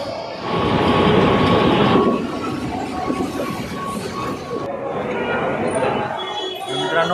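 A Mumbai metro train from Andheri to Ghatkopar rumbles along, loudest early on and then settling to a steady drone, with indistinct voices murmuring in the carriage.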